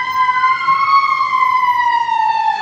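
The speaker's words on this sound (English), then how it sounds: "Not the ambulance, the fire engine." A fire engine siren wails in a long, slowly rising then falling tone, loud and clear as it passes, over faint street rumble and no speech.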